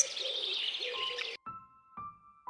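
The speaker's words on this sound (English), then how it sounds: "nightingale" A nightingale singing, a rich twittering phrase followed by clear, pure whistled notes repeated twice with short pauses between, close and alone.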